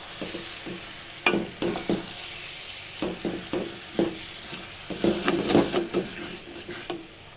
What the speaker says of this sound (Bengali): এবার এটাকে খুব ভালোভাবে নাড়াচাড়া করে মেশাতে হবে